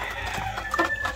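Soft, brief clucking from a pair of black Asil hens in a backyard egg-laying setup, close and low under faint ambient noise.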